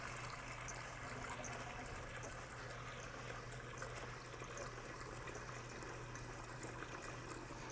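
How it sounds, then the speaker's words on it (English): Tap water runs steadily into a bowl in a home kitchen while sourdough bread is being made, a constant soft splashing hiss that stays even throughout with no pauses. "Might as well let the water run in it."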